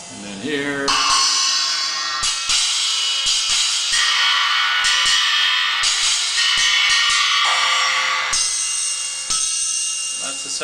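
A custom-built effect cymbal struck repeatedly, giving bright, trashy metallic crashes that ring and overlap into a dense sustained wash, loud and close with no voices.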